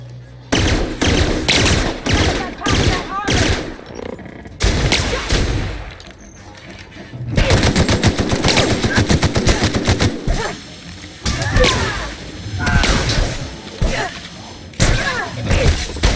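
Security weapons firing in the video game The Outer Worlds, heard as loud, dense bursts of rapid gunfire broken by short pauses, with thuds and crashes mixed in across the whole stretch.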